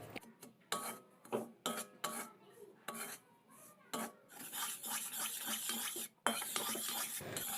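A spoon scrapes and rubs against a bowl while mixing semolina with flour, in short, uneven strokes separated by pauses, then steadier continuous stirring near the end.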